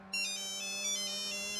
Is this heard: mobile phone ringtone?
yes